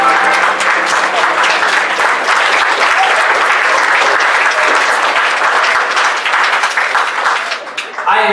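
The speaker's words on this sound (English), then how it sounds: "I am grateful for your kind applause, ladies and gentlemen" The audience at a furry convention story hour breaks into loud, sustained applause and crowd noise, which fades slightly near the end as a voice starts to come through.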